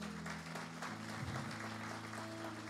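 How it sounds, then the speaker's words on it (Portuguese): A congregation claps together in steady applause, with low hum and murmuring in the background. "Pode aplaudir"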